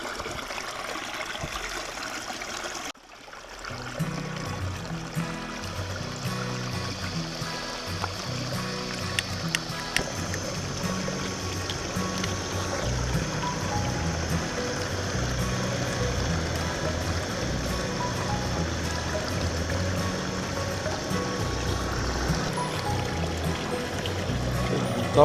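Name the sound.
stream water being collected for boiling coffee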